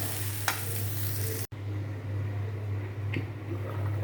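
Khichuri is stirred in a pot over a low, steady hum, with a soft bubbling sizzle and a couple of brief spoon scrapes close by and no one talking.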